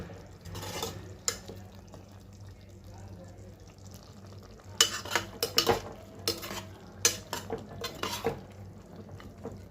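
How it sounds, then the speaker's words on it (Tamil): Garam masala is stirred into mutton curry in a pot, with repeated scraping and clanking of a spoon against metal over a faint sizzle, close by, in uneven bursts that grow busier toward the end. "லாஸ்ட்டாக கரம் மசாலா போட்டு கிளறி விட்டு ரெண்டு நிமிஷம் கழித்து இறக்கி வச்சிங்கன்னா"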